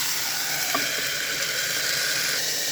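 Tomato and egg cooking over high heat in a pan, a steady loud hiss and sizzle with a faint clink near the start, close and with no one talking.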